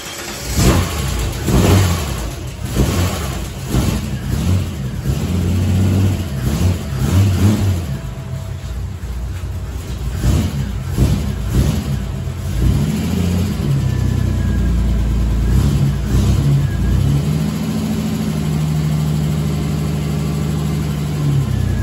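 A Holden LC Torana engine revving close by, loud mid-range rumble surging up and down repeatedly, then settling into a steadier idle with further blips.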